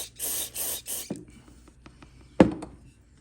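Three quick bursts of aerosol cleaner sprayed into a lawn mower carburetor and emulsion tube, close and hissing, followed by a couple of faint clicks and one sharp clatter.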